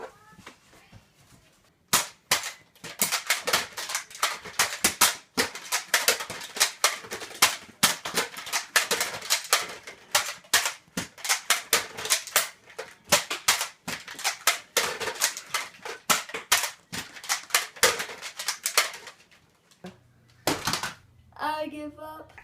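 Nerf guns fire darts again and again during a mock robbery game, a long run of sharp plastic clicks and snaps in quick irregular bursts, with a voice speaking briefly near the end.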